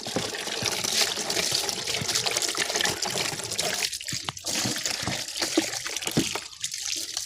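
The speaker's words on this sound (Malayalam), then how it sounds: "നമുക്കിതിൻ്റെ ഉള്ളിൽ വെള്ളം ഒഴിച്ച് കഴുകാം" Water pours steadily into the inside of an air cooler during washing, a continuous close splashing rush with brief breaks and trickles.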